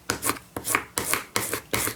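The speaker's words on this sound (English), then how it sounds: "what I always do when I put washi on is I burnish it" Washi tape is burnished onto paper in five brisk, evenly spaced rubbing strokes, each a close, dry scratchy swipe with no talk.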